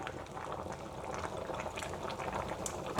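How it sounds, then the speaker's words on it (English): Olive oil poured into a cooking pot where fried pork griot is still cooking, giving a steady low bubbling and sizzling wash that runs on evenly throughout, with a sharp clack right at the end. "I'm gonna pour in some olive oil."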